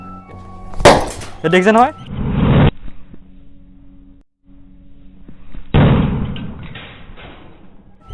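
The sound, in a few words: lighters bursting in an explosion experiment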